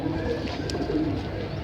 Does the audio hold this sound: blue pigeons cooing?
yes